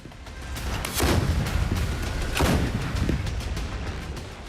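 Artillery cannons firing during the Israel-Hamas war in Gaza, two heavy distant booms about a second apart rolling over a constant rumbling background.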